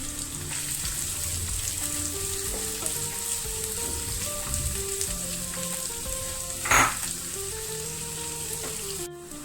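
Chopped onions sizzle steadily in hot oil with ginger-garlic paste for a chicken curry, a loud continuous frying hiss with one brief scraping stir near the end and no talking.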